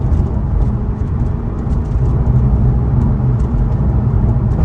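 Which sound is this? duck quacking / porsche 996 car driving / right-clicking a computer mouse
porsche 996 car driving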